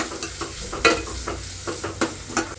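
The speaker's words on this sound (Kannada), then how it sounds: "ಈರುಳ್ಳಿ ಚೆನ್ನಾಗಿ ಫ್ರೈ ಆಗಲಿ." Onion frying in a pan with dried chilli, sizzling steadily with a spatula scraping and stirring in repeated strokes, close and moderately loud with no talk.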